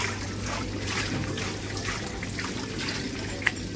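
Water trickles steadily from a decorative water turbine at a resort area in Belek, Turkey, a soft continuous splashing with one brief sharp click near the end.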